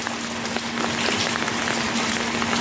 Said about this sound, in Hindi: ये मीह वाला पानी है।